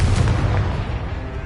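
Confringo blasting spell exploding in Hogwarts Legacy, a heavy, loud booming burst with deep rumbling low end that rolls and slowly fades, with no voices.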